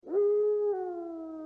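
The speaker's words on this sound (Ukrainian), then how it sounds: "почув протяжне виття Рекса" A single dog howls, one long steady drawn-out note that dips slightly in pitch midway and fades, clear and fairly close.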